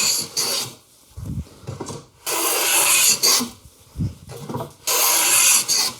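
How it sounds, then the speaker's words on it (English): A hand plane takes shavings off a wooden board's edge for a wine caddy, making three long rasping strokes separated by short pauses, close and fairly loud with no talking. "So I'm going to shift my plane blade over a little bit so I'm taking a little bit deeper cut on that edge."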